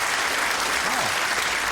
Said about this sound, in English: A round of applause for a Fritzl joke.